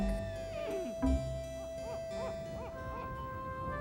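A snowy owl in Alaska gives a series of clear, fairly close hoots in a steady, repeated rhythm over a quiet background.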